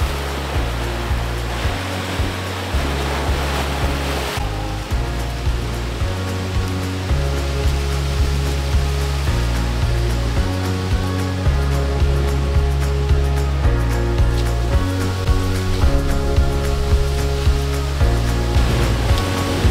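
Heavy Lake Michigan surf pounds steadily against rock cliffs and sea caves, a continuous deep roar with rhythmic booming surges, loud and close, no voices.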